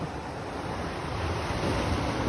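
Sea waves wash in a continuous broad roar, with surf rolling steadily and a faint wind rush over it, no voices.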